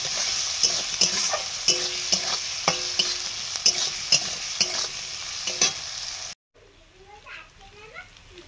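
Chopped onions sizzle in hot oil after potatoes for a meat dish were fried in it, with a spoon scraping the pan in a steady rhythm of sharp stirring knocks, close up. Children's voices chatter in the background, and the sizzle then drops away.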